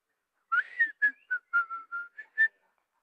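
A person whistles alone, close by, with a short run of about eight clear notes, some held briefly and some clipped.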